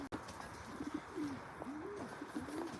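Racing pigeons coo softly at their loft as they come back from a flight, several low, rounded coos repeating under a steady outdoor hiss with faint background chirps.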